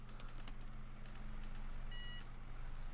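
A bus cab in the OMSI 2 driving simulator gives a clear electronic beep as the parking brake is released, sounding once over a constant low engine idle and cabin hum.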